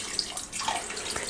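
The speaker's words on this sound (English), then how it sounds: "I'm just gonna pour some water, so a little bit of water halfway" Water pours into a cooking pot, filling it about halfway, in a steady splashing stream that runs alone at close range for just over a second.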